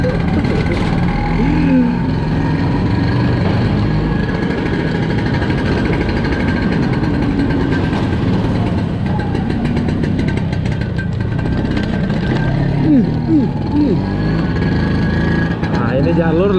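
A Vespa PX 150 E scooter engine drones steadily throughout while riding, loud and close, with someone talking over the constant mechanical hum.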